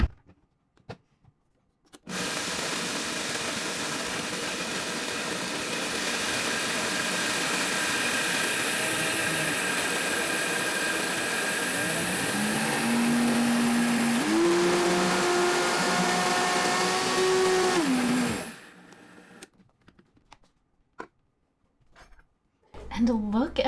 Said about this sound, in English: We're going to start low, slowly increase our power, and then crank it up to high to really get it ground